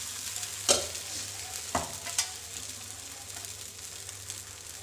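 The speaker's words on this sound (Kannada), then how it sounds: "ನಾನು ಅದರ ಮೇಲೆ ದೋಸೆನ ಹಾಕ್ಕೊಳ್ತಾ ಇದ್ದೀನಿ" Dosa batter spread on a hot pan over a medium gas flame, a soft steady sizzle with a few spoon taps and scrapes, close and without talk.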